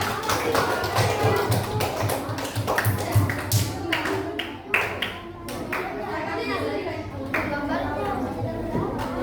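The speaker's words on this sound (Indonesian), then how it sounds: "Kasih tepuk tangan buat kamu berdua." Children in a classroom clap for two classmates, a dense patter of small hands that swells and fades in waves, with kids chattering and a teacher's voice under the applause.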